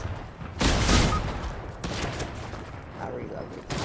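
Gunfire in the video game Fortnite, a loud sustained burst of rapid shots up front followed by further shorter volleys, with a voice talking in places.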